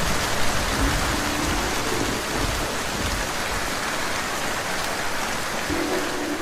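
Heavy rain pours down steadily, a dense continuous hiss with a low rumble underneath.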